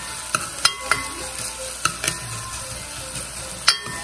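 Garlic sautéing in a pot as the base for rice gives a steady close sizzle, punctuated by several sharp clicks of a utensil stirring against the pot.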